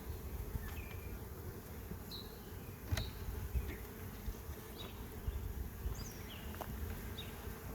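Honey bees at a swarmed colony, a continuous low droning buzz with occasional individual bees flying close past, steady and moderately faint throughout, no voices.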